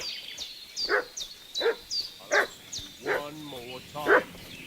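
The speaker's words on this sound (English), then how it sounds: "What's that dog making such a fuss about?" A dog barks in the medieval village of Kingdom Come: Deliverance 2, sharp repeated barks in a steady rhythm about twice a second, fairly close and loud, with higher yips and whimper-like sounds mixed in and some brief background voice.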